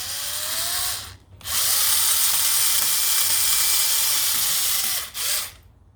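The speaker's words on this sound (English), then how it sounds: "Grab our handy screw gun." A screw gun works the bolts on a 2017 Yamaha Bolt motorcycle: a loud, close, high whirring run of several seconds, then a short second burst, with brief quiet gaps.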